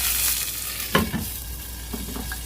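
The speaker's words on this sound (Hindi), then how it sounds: "अब हम इसमें लहसुन अदरक का पेस्ट डालेंगे" Garlic ginger paste with a splash of water hitting hot oil in a pan, a steady background frying hiss with a sharper sizzling burst and a few crackles near, no talk.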